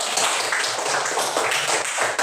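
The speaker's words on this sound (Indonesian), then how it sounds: "Tepuk tangan dulu." A classroom group claps together in a dense, continuous burst of applause that lasts a couple of seconds, fairly loud and close, with no voices on top.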